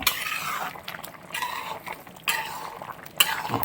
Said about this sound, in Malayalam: നന്നായിട്ട് ഇളക്കി കൊടുക്കുക.